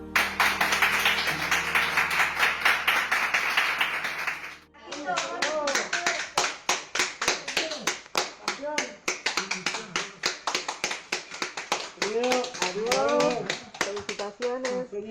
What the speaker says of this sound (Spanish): Estos aplausos son para la primera paciente recuperada en la ciudad de Río Grande.